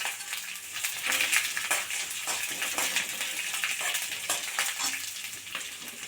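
Garlic and ginger fry in hot oil for a quick Tamil kuzhambu made without vegetables, giving a steady, close broadband sizzle with faint stirring scrapes throughout.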